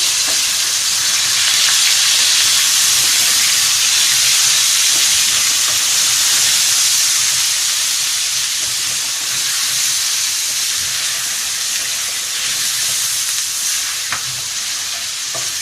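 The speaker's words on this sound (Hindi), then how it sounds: "अब इसकी भी तकरीबन हमें 1 मिनट बुनाई करनी है इसकी" Garlic ginger paste sizzles steadily with onions in a hot pan, a loud continuous hiss with occasional stirring, no talking.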